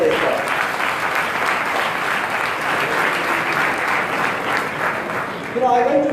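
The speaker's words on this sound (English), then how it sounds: "a round of applause for all such people who helped me get this far" Loud, dense applause fills a hall during a school graduation speech, sustained clapping from a large audience for about six seconds, with a voice briefly breaking through near the end.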